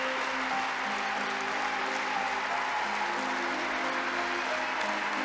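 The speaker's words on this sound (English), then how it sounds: "I can hear some traditional applause" An audience applauding in a continuous, dense wash of clapping that holds steady throughout, even and fairly loud with no clear pauses.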